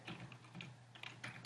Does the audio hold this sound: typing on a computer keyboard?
yes